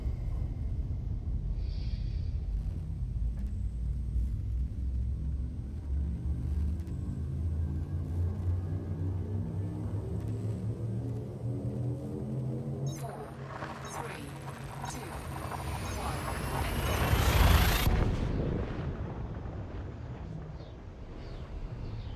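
A spaceship's frame shift drive in Elite Dangerous charges with a deep, steadily rising rumble and climbing whine, then bursts into a loud swelling whoosh as it jumps and fades into a steady low roar, with no talking.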